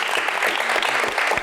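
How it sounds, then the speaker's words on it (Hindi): Brief, lively studio applause on a Pakistani talk show, a close, dense burst of many hands clapping evenly throughout with no voices over it. "तालियां।"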